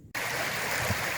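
A creek flows close by outdoors. After a brief quiet start, its water rushes in a steady, full, broadband wash.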